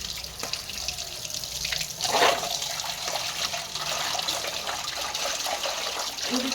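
Tap water runs steadily while drumstick flowers are washed in a small basket. There is a constant near splashing flow with a brief louder gush early on, and no talk.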